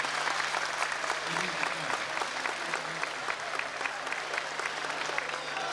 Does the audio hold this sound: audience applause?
yes